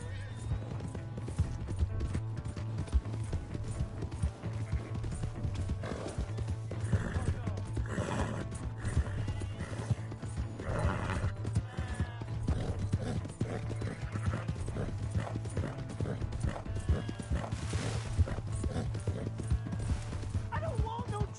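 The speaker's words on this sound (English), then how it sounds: "That's my horse! Just borrowing it." Horse hooves clop rhythmically on the ground in the video game Red Dead Redemption 2, mixed with a neighing horse, barking dogs and voices talking and shouting nearby.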